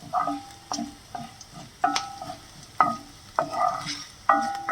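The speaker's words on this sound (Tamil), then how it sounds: "இஞ்சியும் பூண்டும் கொஞ்சம் மைல்டாக ரோஸ்ட் ஆகட்டும்." Loud rhythmic scraping and clanking of a utensil stirring ginger and garlic in a pan, with sharp strikes every half second or so over a light sizzle of frying in oil.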